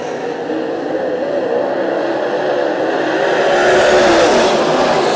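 Race cars speeding around a track, a loud continuous engine roar from a pack of cars that swells slightly and rises in pitch toward the end, with no talking over it.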